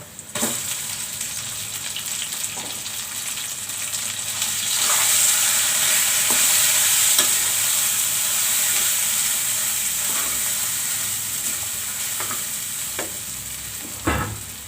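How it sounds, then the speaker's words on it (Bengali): Loitta fish mash frying with onions browned to a reddish colour in a pan, giving a steady close sizzle with scattered stirring clicks and scrapes throughout, no talking. "এখন আমি মাছ ভর্তাগুলো দিয়ে দেব"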